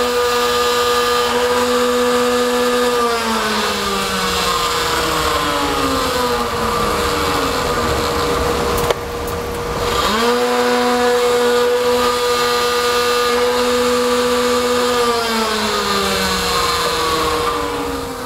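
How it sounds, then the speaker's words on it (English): A milling machine cuts weep-hole slots into a window frame lineal, whining steadily with a tonal hum that dips and rises as the cutter engages, with a brief sharp break midway, loud and close. "Saum milling out the frame for the weep hole locations."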